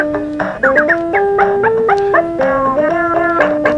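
A toy karaoke recorder plays electronic dog-bark sounds pitched into a tune, a quick run of short yelping barks in a melodic rhythm, loud and close.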